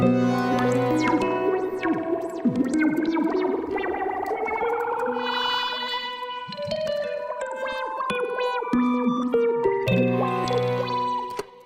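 An Osmose synthesizer plays a winding double harmonic scale melody with shifting harmonics, heavy effects and echo, sustained and loud throughout with no voices.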